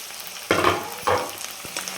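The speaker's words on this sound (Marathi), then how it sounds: "तर हे सर्व साहित्य आपल्याला छान अजून दोन मिनिट चांगलं तळून घ्यायचं" Green chillies and poha ingredients frying in hot oil, a steady sizzle punctuated by two louder bursts of spattering as pieces are stirred, close and alone with no talk.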